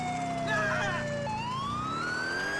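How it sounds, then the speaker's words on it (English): A police car siren wails steadily in the GTA IV video game, its pitch sweeping and then shifting partway through, loud and continuous over a faint background hum. "Yeah, don't you hear my siren?"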